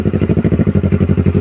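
Heavy motorcycle engine pulsing steadily at a low, even beat, close and loud, on a ride through a communal ranch in Impasugong, Bukidnon.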